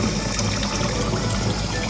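Water running steadily through a Kangen SD501 water ionizer right after a carbon filter change, a continuous close rushing flow with no pauses.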